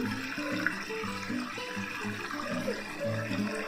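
Water pours steadily into a washing machine during a wash with liquid detergent, a close, continuous rushing and splashing with small fluctuations and no one speaking.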